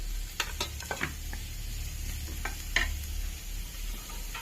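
Chicken frying in a pan for Mangalore-style bannanjal, stirred with a few sharp scraping strokes over a steady low sizzle, close by and moderately loud, with no talk.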